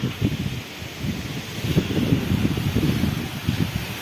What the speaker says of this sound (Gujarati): પવન વધી ગયો મિત્રો